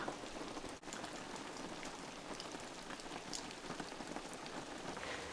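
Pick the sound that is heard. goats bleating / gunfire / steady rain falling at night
steady rain falling at night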